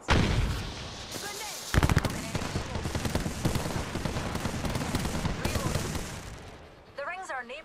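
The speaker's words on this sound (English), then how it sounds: "Listen up, I'm getting shot at." Gunfire in the battle royale shooter Apex Legends: rapid bursts and cracks pile up loudly, with a voice speaking over parts of the shooting.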